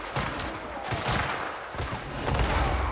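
Rapid gunfire from a shootout in the Crimson Desert video game, a dense, loud barrage of overlapping shots over a noisy battle backdrop lasting the whole stretch.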